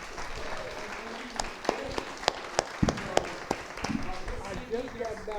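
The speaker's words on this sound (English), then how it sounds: "Let's give Mike a big round of applause" Audience clapping for a guest during a film Q&A session, a sustained round of applause with scattered loud individual claps near the listener, crowd murmur and voices mixed underneath.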